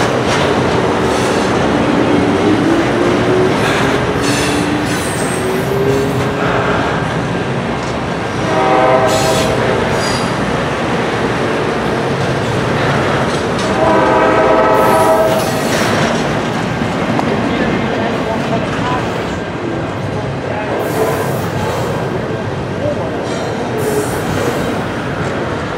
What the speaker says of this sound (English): Got some new cars on the train that just passed.